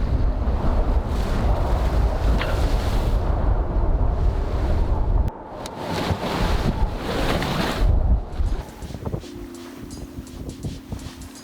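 Wind and heavy ocean swells batter an Albin Vega sailboat, with loud, continuous buffeting across the microphone and surging water, easing briefly before building again.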